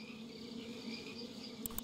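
A steady insect buzz from bees in the video game Mystery of the Ancients drones continuously at a moderate level, with a brief click near the end and no talking.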